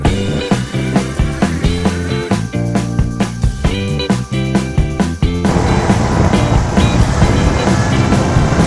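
On a RIXOC GT19 full-suspension electric dirt bike, the rear light knocks against the rear wheel, giving a steady, loud rattling and rumbling that churns continuously and grows denser and rougher partway through, with no voices.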